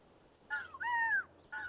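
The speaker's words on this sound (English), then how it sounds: "Big flocks of blackbirds want to eat the corn." A few harsh blackbird calls ring out in short bursts with brief pauses between them, fairly close against a quiet background.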